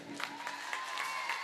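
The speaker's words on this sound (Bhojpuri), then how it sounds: "एक बार जोरदार ताली भी बजा दीजिए।" Faint crowd applause at a Navratri bhajan stage program, a soft continuous patter of many hands with a hint of cheering, heard from some distance.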